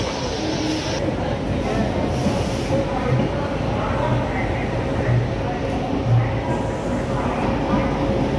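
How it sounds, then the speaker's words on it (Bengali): The Howrah–New Delhi Rajdhani Express pulls out of Howrah Junction, giving a constant rumble of rolling rail cars and a low wheel drone that is close and loud throughout, with station background noise. "হাওড়া নিউ দিল্লি রাজধানী রওনা দিল নিউ দিল্লির উদ্দেশ্যে"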